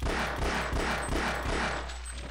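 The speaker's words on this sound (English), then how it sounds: "Just shoot them with a the pistol." Pistol shots in Half-Life, a run of regular, evenly spaced reports fired close over game ambience, with the shots thinning out toward the end and no talk.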